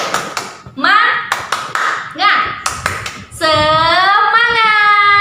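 Schoolchildren in a classroom clap together in a quick rhythmic pattern, interspersed with shouted chanting, ending in a loud sustained group shout.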